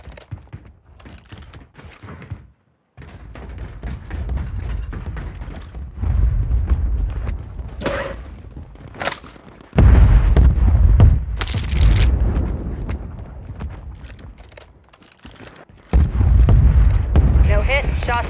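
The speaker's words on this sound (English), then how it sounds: "Mortar strike on the way." Mortar strike explosions in Call of Duty: Warzone, a string of heavy booming blasts and rumbles arriving in several bursts, loud and close, with sharp crackling impacts in between and no talk over them.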